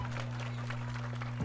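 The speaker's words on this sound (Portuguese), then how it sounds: "Um aplauso de todos, por favor" Distant crowd applause at a civic-military parade in Vila Santa Catarina, a soft, steady wash of clapping over a low electrical hum.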